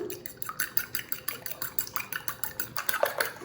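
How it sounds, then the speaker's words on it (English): Four eggs being lightly beaten in a bowl for paleo muffin batter, giving a steady run of quick, light clinking taps of utensil against the bowl, close and moderately loud, with no talking. "I wanna go ahead and take 4 eggs and very lightly beat them."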